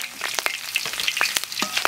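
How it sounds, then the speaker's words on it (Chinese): Ginger, garlic and Sichuan peppercorns fry in hot rapeseed oil, giving a loud, dense crackling sizzle with quick sputtering pops and occasional stirring scrapes, close up and without talk. "给炸一下，炸一下才香。"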